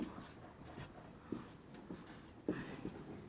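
A pen scratches across paper as math notes for an algebra lesson are written by hand, faint and close, with short strokes and taps in an uneven rhythm.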